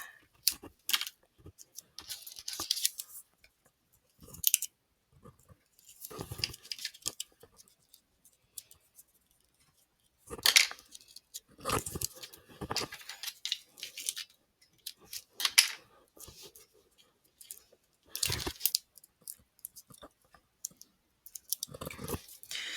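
Scissors snip a thin paper strip to length while a nautical card is being made, with several short close crisp cuts in bursts separated by quiet pauses.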